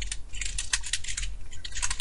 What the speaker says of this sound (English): but we're just going to type it out